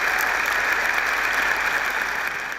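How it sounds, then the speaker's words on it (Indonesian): An audience at a campus talk-show taping applauds steadily and fairly loudly throughout, a dense even wash of clapping that tapers slightly at the end, with no talking over it. "kita berikan aplaus untuk Wilny"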